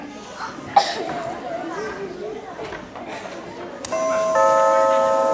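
A doorbell chimes near the end, ringing out over a steady hum of background chatter and household noise.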